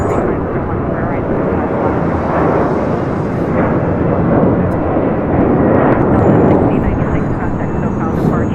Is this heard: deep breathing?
no